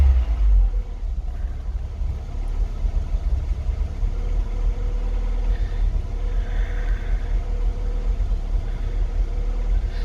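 Austin Ambassador Vanden Plas engine running after an oil and ignition tune-up, a low steady rumble at idle, fairly quiet and continuous with no talking.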